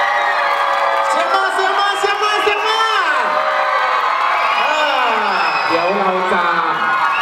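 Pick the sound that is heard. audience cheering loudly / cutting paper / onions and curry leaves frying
audience cheering loudly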